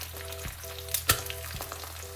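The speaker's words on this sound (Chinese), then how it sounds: "咱们将一面鸡蛋煎熟以后，" Eggs fry quietly in oil in a pan, a faint, soft sizzle with a couple of brief clinks or taps and a low steady hum in the background.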